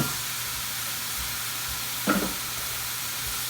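Mushrooms and onions softening in a pan, with a continuous close sizzle and hiss, a brief spoon scrape midway and soft stirring sounds throughout, no talk.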